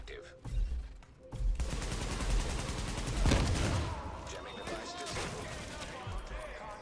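Shotgun blasts and bursts of gunfire in the shooter game The Division, loud rapid reports and crashes over several seconds, with a voice talking now and then.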